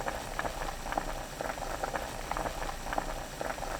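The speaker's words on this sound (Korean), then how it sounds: "파, 냉이 넣고 끓입니다" A pot of egg soup with shepherd's purse and green onion boils at a steady, close bubbling, with dense, even patter throughout.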